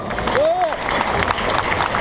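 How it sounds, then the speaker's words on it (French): An audience at a Marseille festival conference applauds loudly and continuously, a broad wash of clapping with crowd noise and a brief voice rising over it. "On peut applaudir très fort Marie-Ange"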